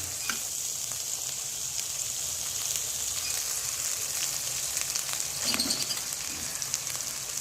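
Boiled eggs fry in spicy balado chili sauce in a pan, a steady close hiss of sizzling with occasional stirring scrapes, no talking.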